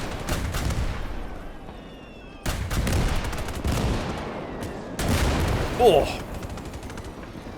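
Heavy gunfire pounds a mech during a video game battle, with repeated loud bursts of rapid shots and booms layered together, and a short exclamation from a voice.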